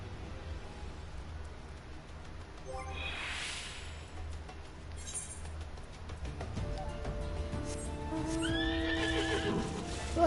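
A horse in the video game Final Fantasy XIV neighs with a rising whinny over steady clip-clop hoofbeats and quiet ambient game sound, the whinny coming near the end.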